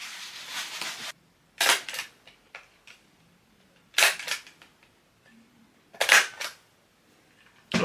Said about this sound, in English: let's staple it